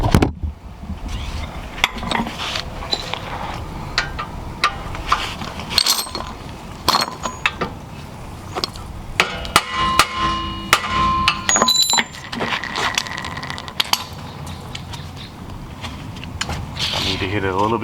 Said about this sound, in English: Go ahead and try and hit this guy with a hammer a few times.